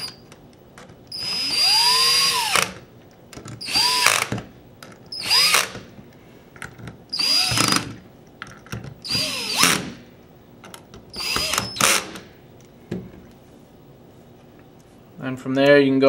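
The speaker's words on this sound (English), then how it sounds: "go ahead and tighten down all your receiver bolts" A power drill drives receiver bolts snug during assembly of a U.S. Army Carver One, in about seven short loud bursts of whirring separated by pauses, with a brief voice at the end.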